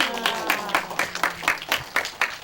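Rhythmic group clapping in time, led in a hospital performance for elderly listeners, with evenly spaced claps near and moderately loud, alongside music-like tones and a faint voice.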